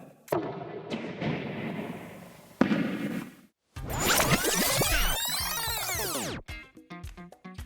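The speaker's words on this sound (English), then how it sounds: "it's going to go ahead and spark the propane gas, which is flammable, and create a force, which is going to accelerate our mass, which is the tennis ball" A propane-powered tennis ball cannon fires with a loud ignition boom after a short lead-in of rustling and thumps, followed by a long whooshing, crackling burst that trails off into rapid clicks.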